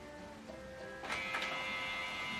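Canon TS9551C printer scanning a document through its automatic document feeder, a faint steady mechanical whir with a brief louder feeding rattle partway through, heard alone.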